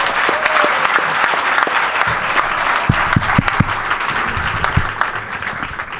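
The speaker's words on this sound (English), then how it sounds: "Big round of applause." Full, sustained applause from a crowd at a university football coach's introductory press conference, loud and continuous with a few sharper claps standing out near the microphone.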